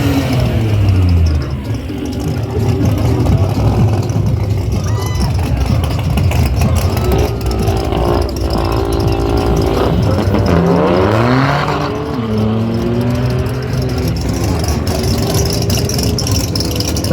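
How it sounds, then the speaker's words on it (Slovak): A huge big block engine of roughly 1200 horsepower in an El Camino drag car at a drag racing event rumbles loud and close, idling heavily and then revving with rising and falling sweeps. "Takže obrovský big block motor,"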